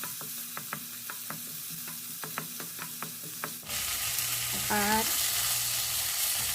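Onion sautéing in butter in a pan: a series of rhythmic scraping stirs over a soft sizzle, then a louder, brighter frying hiss after the onion goes in, with a short voiced sound partway through.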